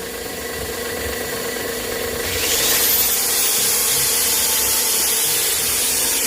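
A homemade fuel-free two-stroke generator runs steadily with a constant mechanical hum that rises in pitch and loudness about two seconds in, then holds, with no voices.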